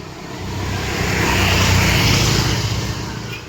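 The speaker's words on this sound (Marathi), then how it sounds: "समोरून गाड्या येतात तुफान." A vehicle on the road to Lohagad fort sweeps past close by, its engine and tyre roar swelling to a loud peak midway and fading as it passes, with no talk.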